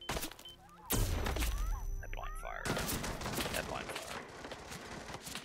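Guards in Hitman World of Assassination firing at a target, rapid bursts of close gunshots and volleys cracking over a busy scene, with shouting voices mixed in.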